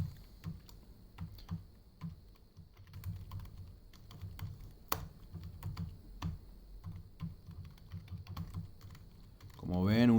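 Quick, uneven keystrokes on a computer keyboard as cells of a small spreadsheet table are filled, with occasional louder Enter and Tab presses, close and fairly quiet in a still room, ending in a brief burst of other noise.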